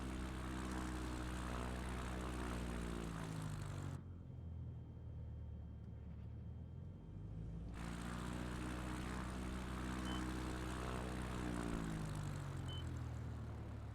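Light propeller airplane on landing approach with flaps down, making touch-and-go circuits in São Paulo; a steady close engine drone that dips to a softer rumble for a few seconds midway, then returns.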